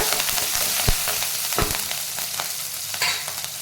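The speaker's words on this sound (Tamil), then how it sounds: "இது எல்லாத்தையும் சேர்த்து நல்லா வதக்கிக்கோங்க" Steady sizzling of ginger, chili and curry leaves frying in hot oil, with a few sharp pops and stirring clatters, close and moderately loud.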